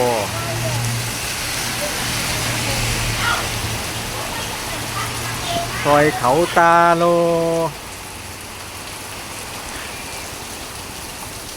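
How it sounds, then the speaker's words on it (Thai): Heavy rain with wind pours down in a dense, steady hiss throughout, while someone speaks over it in the middle and a vehicle horn-like tone sounds briefly before the downpour continues alone. "เมื่อกี้นี้ทั้งทั้งฝนทั้งลมนะครับ"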